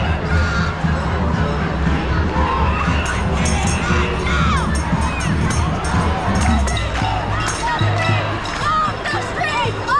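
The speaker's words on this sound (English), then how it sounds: "The crowd just keeps coming." A large protest crowd packs a New York City street, shouting and cheering in a loud, continuous roar with sharp whistles and higher cries breaking through the din and voices everywhere.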